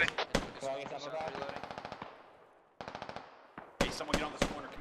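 Sustained automatic gunfire in a military video game, loud rapid bursts that rattle on, pause briefly, then resume in heavier volleys, with voices calling out over the shooting.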